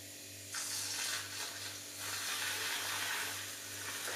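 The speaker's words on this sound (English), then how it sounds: "And then just hand blend it with this little thing." A small handheld blender whirs through coconut matcha tea, a steady buzzing hiss that starts abruptly and runs continuously with slight surges, close and alone without speech.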